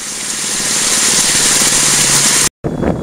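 A small 1.5-inch water pump engine running hard to feed a hog mat gold sluice, a loud, steady, buzzing drone heard close, cut by a brief dropout near the end.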